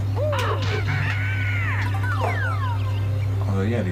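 Birds in Banjo-Kazooie give repeated harsh caws and swooping calls over a steady low game hum, with a person talking alongside.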